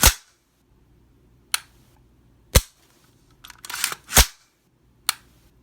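Sharp dry-fire clicks from a Timney 3.5 pound flat trigger in an AR-15 short-barreled rifle: four crisp, isolated snaps spaced about a second apart, with a brief rattle of handling in between.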